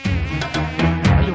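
Flies buzz loudly and close by in a continuous, droning hum that wavers slightly in pitch, with no talk over it.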